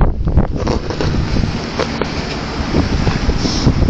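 Strong wind buffets the microphone outdoors at an evening vigil, a steady loud rumbling roar with gusty swells and no voices throughout.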